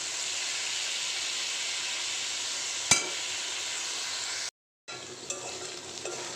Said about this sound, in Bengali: চিংড়ি মাছগুলো এর সাথে দিয়ে ভেজে নেব